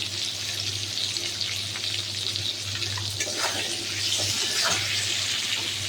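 A little water poured into a hot pan with turmeric for a Bengali brinjal and fish curry, a steady hissing splash and sizzle, close and continuous with a low hum underneath and no talking.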